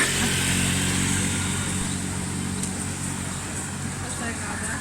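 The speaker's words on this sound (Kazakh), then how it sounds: "мотоцикл бастады" A motorcycle engine runs steadily close by on a street in Avsallar, a loud continuous rumble with roadway noise and no pauses.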